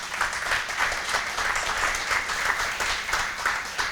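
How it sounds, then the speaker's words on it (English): An audience at a ribbon cutting for an advanced manufacturing facility applauds, a loud continuous burst of many hands clapping with a slightly pulsing texture and no talk on top. "So let's give a round of applause to Principal Rivera and Kim Hogan, right?"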